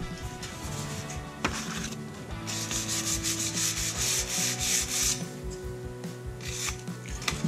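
Coarse 220-grit sandpaper rubs back and forth over the grille of a 1966 Mustang in close, steady rhythmic strokes, with no talk.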